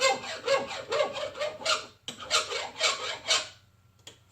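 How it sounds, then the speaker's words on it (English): A hand file rasps across a brass rifle cartridge case in a hardened trim die, taking burrs off a 30-06 Springfield case converted to 8x57 Mauser; close, loud rhythmic back-and-forth strokes, about eight, then a pause. "You file the burrs off."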